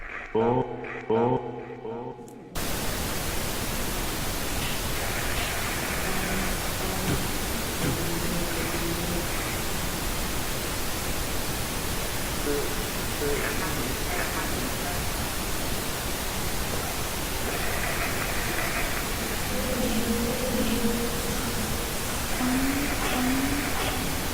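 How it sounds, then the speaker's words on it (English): Steady broadband pink noise from a DR60 device fills the recording loudly and continuously after a short opening burst, a dense hiss with faint tonal fragments and echo buried underneath. "I'm now going to add pink noise."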